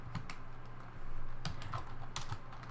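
Fingers tap on a computer keyboard while code is entered in an editor, a few quick clusters of soft clicking keystrokes at close range over a faint steady hum.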